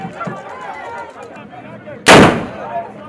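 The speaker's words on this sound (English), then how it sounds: "The occasion is characterized by pomp and pageantry amidst firing of musketry." A single loud, sharp musket blast at the Ga Homowo harvest festival in Accra cracks out and echoes briefly, following a stretch of murmuring voices and crowd sound.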